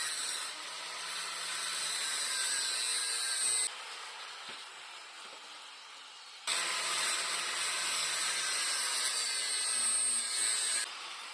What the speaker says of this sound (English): I'm going to go ahead and just take the grinder and just put a big notch on this